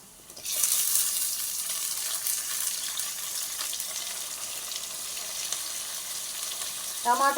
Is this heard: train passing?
no